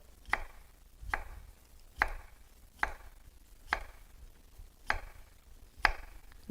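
A knife chops whole seeded vegetables or fruit on a cutting board while temple food is prepared, seven sharp, evenly spaced strikes at about one per second, close and clear with no talk.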